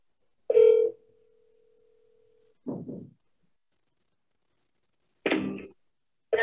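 A phone call rings out unanswered: short, evenly spaced ringback tones with long silent gaps between them, clear and close with nothing else heard.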